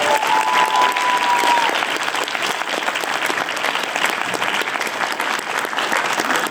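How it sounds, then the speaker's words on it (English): A PAX Australia panel audience claps loudly and continuously, a thick even wash of applause filling the room for the whole stretch. "another round of applause."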